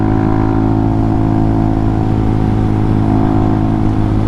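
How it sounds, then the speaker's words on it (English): A Hawk 250 motorcycle engine runs out of gas, a loud, close, steady droning idle with a rough, uneven undertone as it struggles, and no talk over it. "This thing's struggling hard. It's acting like it's out of gas now."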